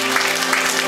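Audience applause fills a ceremony hall, a brief and dense burst of clapping heard at close range while a tonal hum continues underneath.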